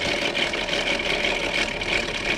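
A 2002 Volkswagen Eurovan with a VR6 engine idling with a loud, steady rattle, a dense diesel-like clatter heard up close and continuous, with no talking.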